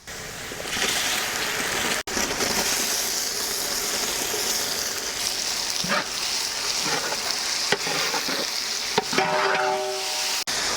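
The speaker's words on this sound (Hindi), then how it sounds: "ऑनियंस ब्राउनी शेड में आते ही हम लोग इसमें जो स्लाइस्ड टमाटोस है वो ऐड करेंगे" Sliced tomatoes sizzle in hot oil with browned onions for a Punjabi dhaba-style mutton gravy, a steady loud frying hiss with occasional stirring scrapes and clinks throughout.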